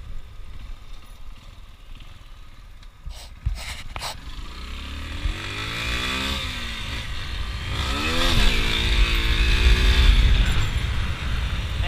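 Yamaha XTZ motorcycle engine running while riding downhill on rough ground, a steady close engine drone with shifting pitch sweeps, after a few sharp knocks early on, growing louder toward the end.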